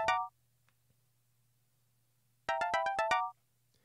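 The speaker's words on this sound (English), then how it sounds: "let me go ahead and answer this phone" A phone ringtone plays a short melodic burst, falls silent for about two seconds, then returns with a quick run of repeated bright tones. Both bursts are clear and fairly close, over a faint low hum.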